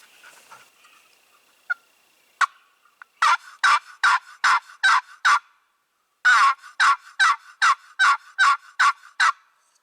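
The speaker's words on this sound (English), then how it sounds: "Just had a gobble out there too." During a spring wild turkey hunt, a faint distant gobble comes early, then two loud, close series of rhythmic, evenly spaced yelps break the quiet, separated by a short pause.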